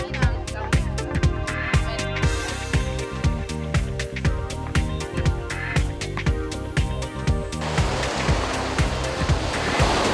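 Sea waves wash onto a gently shelving beach in Sardinia. A steady surf hiss runs under a rhythmic beat and swells loudest in the final few seconds.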